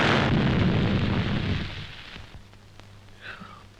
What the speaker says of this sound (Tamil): என்னடா இது ஒரே நாட்டு வெடிகுண்டா இருக்கு.